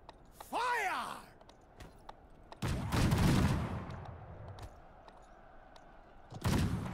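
Musket-style volleys of gunfire on command in the video game Conqueror's Blade, a cracking burst followed by a long rumbling roll, another sharp burst near the end, with voiced commands and groans in the game audio.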